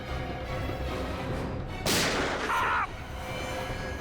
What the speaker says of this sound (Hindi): सर गोली चली है